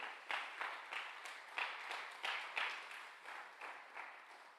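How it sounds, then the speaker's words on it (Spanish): A church congregation at a Sunday service claps together in a steady rhythm, a faint, distant series of regular group claps roughly every half second with no talk over it. "Dele un aplauso fuerte a nuestro Dios"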